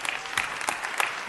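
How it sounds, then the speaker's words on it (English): A short burst of applause at a city council meeting, scattered hands clapping at a moderate level for about a second. "another round of applause"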